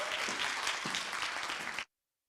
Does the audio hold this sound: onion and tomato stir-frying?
no